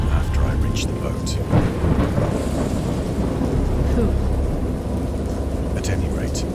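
A thunderstorm in the horror game Dagon, with steady heavy rain and low rolling thunder throughout and a few sharper cracks, close and loud.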